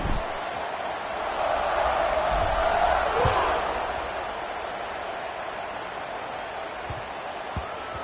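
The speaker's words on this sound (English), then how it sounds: "this crowd now ready to get behind them" Football stadium crowd in Memphis roaring steadily before a kickoff, a broad sustained wash of cheering that swells in the middle and eases off, with scattered thumps.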